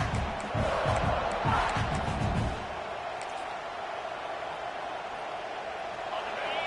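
A big stadium crowd at a football game roars loudly for a few seconds, then settles into a steady, distant din.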